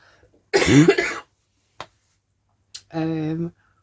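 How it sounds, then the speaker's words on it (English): A harsh burst of coughing up close, followed by a brief click and a short voiced sound, like a throat being cleared. "cough is still well and truly here."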